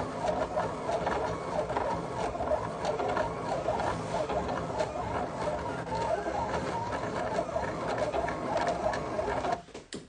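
Silhouette cutting machine cutting material: a steady, busy mechanical whirring and ticking carriage noise runs continuously and close, stopping abruptly near the end.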